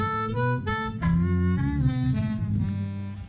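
A harmonica run through an octave effect takes on a deep, bass-like tone, playing a short low line of held and shifting notes, close and unaccompanied.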